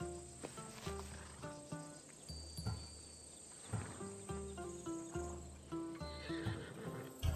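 In Assassin's Creed Odyssey, a horse neighs and whinnies repeatedly over steady clip-clop hoofbeats, while insects chirp faintly in the background and no one speaks.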